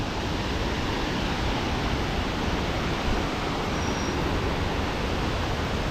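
Thooval waterfall in Idukki roars with a steady, dense rush of falling water, loud and unbroken throughout with no voices.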